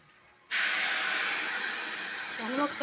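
Hot tempering poured onto cooked gongura, an abrupt loud sizzling burst that sets in sharply and hisses steadily for two seconds, with a brief voice sound near the end.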